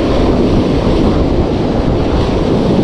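On a small fishing boat in rough sea, wind buffets the microphone and waves churn in a loud, dense roar that never lets up across the brief stretch.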